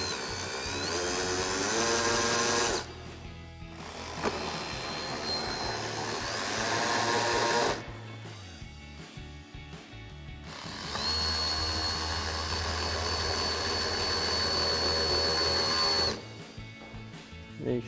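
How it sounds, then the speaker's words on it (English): A power tool driving 10mm screws back into a Jeep Wrangler JL fender, several close whining bursts of a few seconds each with short pauses between them. "we'll grab our 10mm socket and reinstall our screws."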